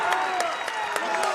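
A big crowd cheers and claps inside the Bob Sechrist Fieldhouse at a basketball game, a steady roar with bursts of applause, and a voice is faintly audible in the noise.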